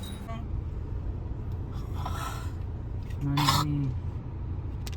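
Road traffic in Jalandhar city makes a steady low engine rumble close by. A short tonal blare, like a vehicle horn, rises briefly near the end.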